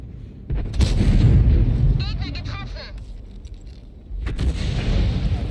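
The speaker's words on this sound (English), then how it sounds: "Artillery just wasted their shots." Heavy artillery shells boom and rumble in World of Tanks, with deep sustained blasts at the start and again near the end, and someone talks over the middle.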